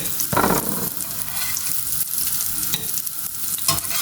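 Burger kebab patties frying on a slow flame: a continuous close sizzle of oil, with stirring or turning scrapes and a couple of louder bursts, and no one speaking.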